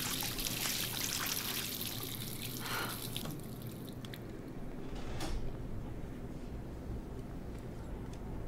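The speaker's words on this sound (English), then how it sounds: "Let's splash some water on our face." Water splashing from a sink in the video game Life is Strange, a steady, close rush of pouring and spattering that runs unbroken throughout with no talking.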